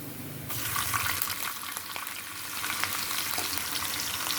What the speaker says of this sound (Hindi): ये मैंने इसमें अदरक डाल दिया, इसको भी फ्राई करेंगे